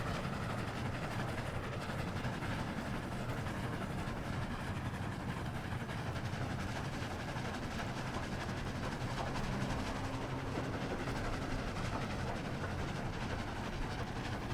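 A train rides along the rails in a Roblox game, giving a steady, continuous rumble of carriage and track noise at an even level the whole time.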